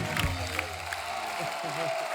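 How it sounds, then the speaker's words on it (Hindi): Short burst of studio audience applause for guests on The Kapil Sharma Show, a dense even patter with a voice speaking over it. "एक बार जोरदार तालियां हमारे मेहमानों के लिए"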